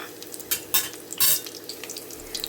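Chopped onion fries in a couple of spoons of hot oil in a pan, a steady close sizzle broken by a few louder scraping bursts as it is stirred, with no talking.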